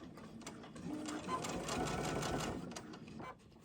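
A sewing machine runs a straight stitch in one short burst, its rapid mechanical chatter rising and then stopping, faint and close.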